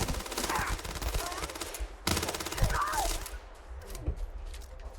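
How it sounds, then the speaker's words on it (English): A sci-fi laser gun fires repeatedly in the Starfield video game, two sustained bursts of rapid zapping shots, moderately loud, trailing off into scattered sounds at the end. "it's a laser gun"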